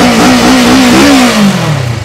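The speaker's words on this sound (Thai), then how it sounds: "ฟังเสียงเครื่องยนต์กัน" A Kawasaki Versys 650 motorcycle engine revs loudly up close. Its pitch climbs and holds, then falls back toward a throbbing idle.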